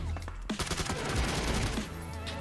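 Rapid video-game gunfire during a first-person shooter match, a dense burst of overlapping shots and clattering impacts lasting about two seconds, loud and close, with a voice briefly shouting over it.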